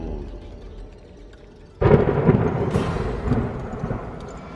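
After a low rumbling lull, a sudden loud crack of thunder breaks and rolls on for a few seconds before fading slightly.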